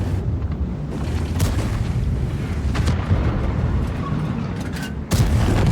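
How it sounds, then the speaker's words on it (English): Gunfire from a Japanese tier 9 tank destroyer in World of Tanks, several sharp cannon blasts spaced across the span over a constant rumbling engine and battle background. "look at this, 3 shots, 3 kills"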